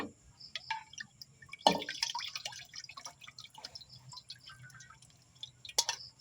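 Liquid strained through a strainer, dripping and trickling in scattered drops and brief splashes, with one louder pour near the start, fairly close and without any talk.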